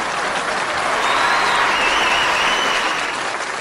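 An audience at a Tamil pattimandram debate claps in sustained, loud applause, a dense patter of many hands that holds steady throughout, with no speech over it.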